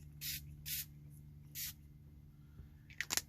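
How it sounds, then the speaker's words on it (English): Spray bottle misting ink onto paper for rubber stamping, three short hissing bursts in a quiet room, followed by a faint click. "and then spray it on here."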